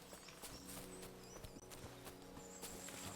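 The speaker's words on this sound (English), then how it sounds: "That must be the horse, is it? It's black as midnight." Horse hooves clip-clopping in the video game Kingdom Come: Deliverance 2, a steady close series of hoof falls in a wooded setting over constant game ambience, with birdlike tones above.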